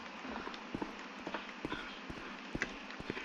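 Footsteps from a character walking in the Roblox game Brookhaven, a run of quick, light, evenly spaced steps over a steady background hum.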